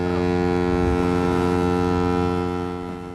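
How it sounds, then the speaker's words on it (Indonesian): A deep, sustained ship's horn blasts steadily for several seconds, loud and droning with rich low tones, then begins to fade slightly at the end. "terdengar suara klakson dari satu kapal"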